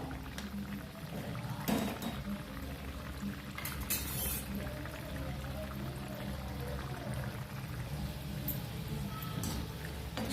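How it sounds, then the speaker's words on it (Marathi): Vadas frying in hot oil, a steady soft bubbling sizzle with occasional clinks of a utensil against the pan. "आता ही वरची साईड आपल्याला छान तळून घ्यायची बघा"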